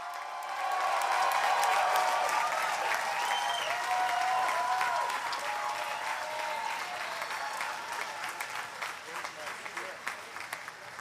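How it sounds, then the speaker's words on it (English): A crowd applauds graduates at a USC graduate commencement ceremony, a steady broad roar of clapping across a large hall with a few light cheers, tapering slightly toward the end. "Let's have a huge round of applause for all the MRED graduates."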